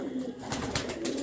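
Ude pigeons of Tonk at a loft, a brief soft coo close by, alone without talk.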